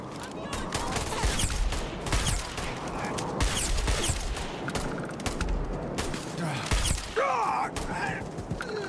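Rapid, continuous gunfire in the space game Starfield, with dense overlapping shots and impacts, some louder cracks standing out, mixed with mechanical clatter and a voice speaking over the fight.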